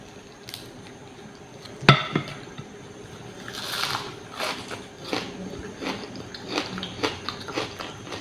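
Radish leaves dipped in a chili sauce and eaten, a sharp crunchy bite followed by steady wet chewing and soft crunches, close to the mouth, with no talking.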